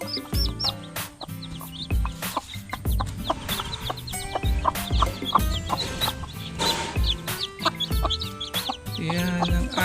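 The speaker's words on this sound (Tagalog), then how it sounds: "dito po natin itatransfer yung mga sisiw kasama yung inahin nila na native." Newly hatched Rhode Island Red chicks with their native mother hen, the hen giving repeated close clucks amid a steady chorus of high chick peeps.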